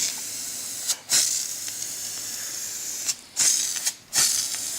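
Short hissing bursts from a spray paint can coating a trailer wheel, three separate sprays of about a second each, close and fairly loud over a quiet background.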